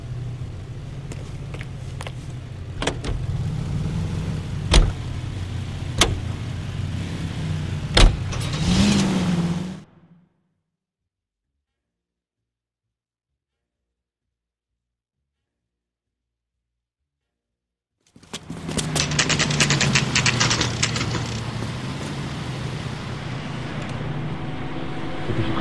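Car engine hum from driving in the detective game LA Noire, a steady low drone with faint ticks, cutting to total silence for several seconds before the engine rumble returns.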